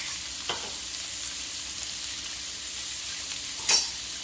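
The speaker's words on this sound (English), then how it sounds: "Just stir fry, toss it, so that way they will not be overcooked." Paneer stir-fried in a kadhai with kadhai masala and salt, a steady quiet sizzle throughout with a couple of brief scraping stirs, no voices.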